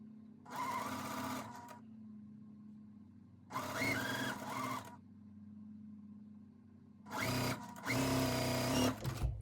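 A sewing machine stitches a quilt block in three separate bursts of rapid, even whirring, each about a second or two long, with quiet pauses between and a low steady hum underneath.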